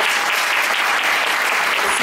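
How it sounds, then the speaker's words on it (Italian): A crowd applauds steadily at a jumpstyle dance exhibition, a dense, even wash of clapping filling the whole two seconds with no pauses or talk. "Matteo, un applauso."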